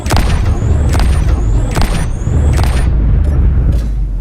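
Rail cannons fire in the Space Engineers video game, four loud booming shots at roughly one-second intervals, each with a sharp broadband crack and a rising electronic whine, over a constant low rumble.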